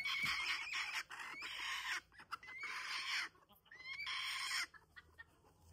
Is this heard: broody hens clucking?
yes